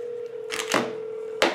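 A Huawei Honor 6X smartphone places a call, giving a steady tone throughout, broken by a couple of sharp handling clicks and taps near the microphone.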